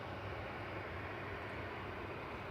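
A Ryanair Boeing 737-800 at Manchester Airport produces a steady, broad jet-engine roar, constant and moderately distant with no breaks.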